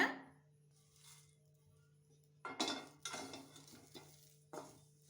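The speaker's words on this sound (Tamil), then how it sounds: "பாருங்கள், கருவேப்பிலை நல்லா வறுபட்டுருச்சு" Curry leaves dry roasting in a pan for rasam powder: a quiet, near-silent stretch, then a run of scraping and rattling stirs of metal against the pan, close and moderately loud, with a low steady hum underneath.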